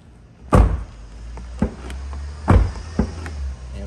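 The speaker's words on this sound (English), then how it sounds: "Now let's close the door and make sure there's no obstructions." A Chevrolet C8 Corvette door with a carbon fiber interior trim fitted is shut, giving a few close, solid thumps and smaller knocks spaced over a few seconds, with no talking.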